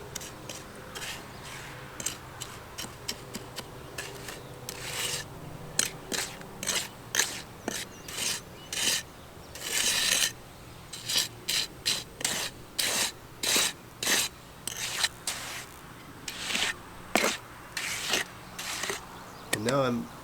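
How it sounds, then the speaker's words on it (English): A magnesium float worked across a freshly poured wet concrete slab surface, giving repeated close scraping sweeps in short bursts with pauses between strokes, fairly loud and rhythmic, with a voice talking faintly underneath at times. "Really just working the whole surface now with the mag float."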